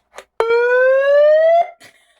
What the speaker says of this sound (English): And we have a siren.